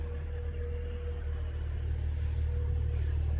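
A Kenworth truck with a Detroit diesel engine idles steadily nearby, a constant low rumble with a faint whine over it and no clear revving.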